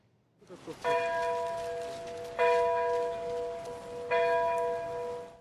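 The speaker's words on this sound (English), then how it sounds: "Bells tolled 30 times in Kiev" Deep church bell tolls ring out three times at slow, even intervals, each strike resonating and lingering into the next, in Kiev for the 30th anniversary of the Chernobyl disaster.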